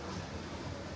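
Wind gusts at a Jamaican beach on a drizzly day, a steady broadband roar blended with surf, close and continuous without pauses or voices.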